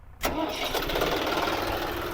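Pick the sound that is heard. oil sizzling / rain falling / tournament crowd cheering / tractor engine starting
tractor engine starting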